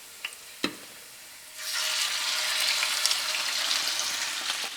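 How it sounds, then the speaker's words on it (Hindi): Prawns hit hot olive oil with garlic in a pan, bursting into a loud, steady sizzle after a couple of faint taps, the frying hiss holding strong to the end. "In goes the prawns."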